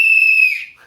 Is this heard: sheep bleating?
no